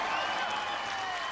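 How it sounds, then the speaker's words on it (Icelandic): Applause from a concert audience at an outdoor Culture Night show in Reykjavík, greeting a girls' choir as it comes on stage; a steady, dense wash of clapping, fairly close and even throughout, with faint voices mixed in. "Vil ég gefa þeim gott klapp?"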